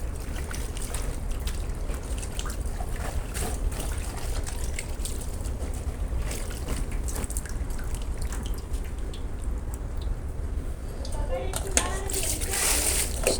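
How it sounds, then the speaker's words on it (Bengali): Leafy greens being washed outdoors under running motor-pumped water, a steady trickling and dripping stream with occasional splashes, fairly quiet and continuous, with some voices in the background. "শাক ধুইতাছি।"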